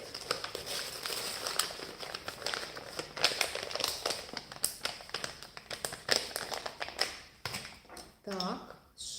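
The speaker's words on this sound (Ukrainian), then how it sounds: "Герметичний пакетик." Close crinkling and rustling of a sealed plastic tea pouch in irregular bursts, with some tapping handling noises and a brief voice near the end.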